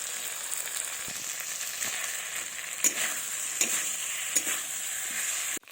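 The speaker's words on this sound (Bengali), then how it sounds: "আলু পটলগুলোর সাথে আবারও আমি ভালোভাবে কষে নেব।" Potatoes and pointed gourd stir-fried with spices in a pan, a continuous close sizzle with a few sharp stirring scrapes spaced through it, ending abruptly.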